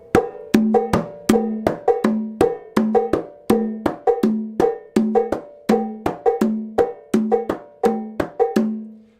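A hand drum repeats a steady Abakuá pattern of deep bass strokes and sharper open tones, played alone with a clear, even rhythm.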